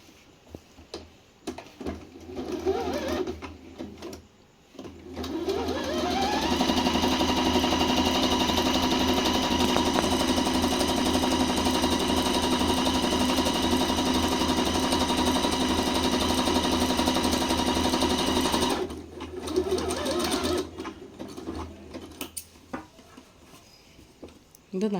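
A tabletop sewing machine runs steadily for about twelve seconds, stitching a decorative pattern with a fast mechanical whir, starting and stopping between quieter stretches with faint background sounds.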